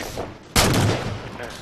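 Sudden loud burst of gunfire in Halo 4 during a big team multiplayer match, a sharp blast after a brief lull that decays into a rolling echo, with no voices.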